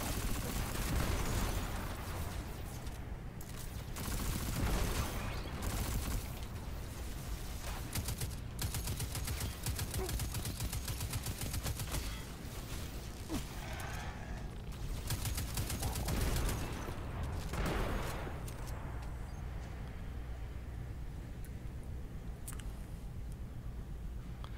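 Enemy gunfire from Destiny 2 rattles continuously in dense, overlapping bursts of shots and blasts, loud and sustained throughout, with game sound effects layered around it.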